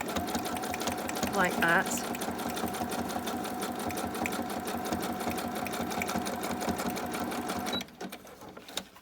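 A sewing machine runs steadily through a long zigzag stitch down a fabric cover for a junk journal, its motor whirring continuously, with brief talk near the start before it stops near the end.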